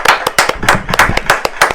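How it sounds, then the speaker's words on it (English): A studio audience claps at a live interview taping, a burst of sharp, dense hand claps with several louder spikes, close and fairly loud, with no talking over it. "Give me another clap real quick"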